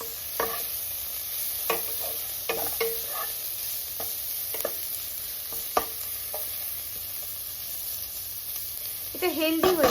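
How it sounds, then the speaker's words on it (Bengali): Vegetables fry in a pan with a steady close sizzle, broken by repeated scraping stir strokes and sharp clacks of the utensil. The stirring grows busier at the end. "ঠিক আছে চলুন ভাজাটা করে নিই।"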